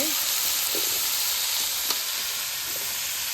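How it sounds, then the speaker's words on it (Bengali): Water splashes into hot oil while rohu fish fries, giving a steady spitting sizzle throughout with a few sharper pops and a faint scrape near the middle, no speech over it. "তেলের মধ্যে জল গেছে দিকে হ্যাঁ একটু জল গেছে"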